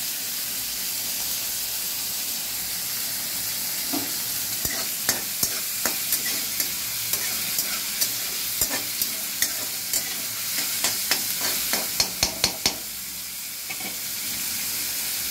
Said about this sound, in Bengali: আদা কুচনো দিলাম